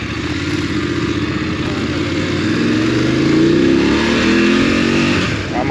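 A motorcycle at a 2024 new-model launch passes close by, its engine note rising and swelling as it approaches and revs through, a loud steady roar with a brief Doppler-like sweep mid-pass.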